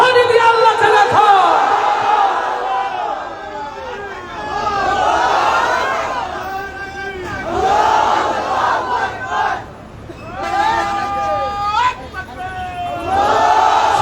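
A large crowd chanting takbir (Allahu Akbar) at a gathering in Monohardi, Narsingdi: loud, repeated surges of massed voices shouting in unison, in call-and-response waves with a leading voice.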